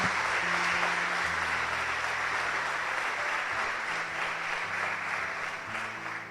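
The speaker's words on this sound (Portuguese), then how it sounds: "Então aplauda o Senhor se você crê." A church congregation applauds during a worship service, a dense, steady wash of many hands clapping together for several seconds, with a faint sustained tone underneath and no speech.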